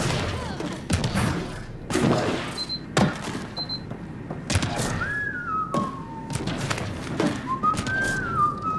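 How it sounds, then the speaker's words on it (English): A character whistles a few short, rising and falling tunes in Mass Effect: Andromeda, set against game ambience with repeated dull thuds and clicks throughout. "Why are you whistling?"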